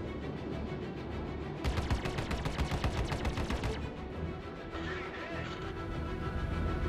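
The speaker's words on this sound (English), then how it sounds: "I get a bit bored and decide to fire one of my remaining missiles at them" Rapid bursts of laser fire and missile launches in the space combat game Star Citizen's Vanduul Swarm mode, a dense crackling volley over a constant engine rumble, then a brief whooshing swell.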